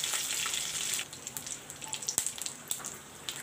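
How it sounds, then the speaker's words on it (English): Panch phoron spices hit hot oil for a fish and potato curry, giving a faint, soft sizzle with scattered small pops and crackles that thin out after the first second. "I am going to put this paanchphoran in the oil now."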